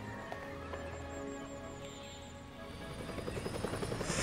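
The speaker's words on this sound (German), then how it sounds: "Dann müssten wir eigentlich auch gleich den Hubschrauber sehen." A helicopter in the game Evil Genius 2 whirs with steady rotor chop, the thumping growing louder and busier toward the end as it nears.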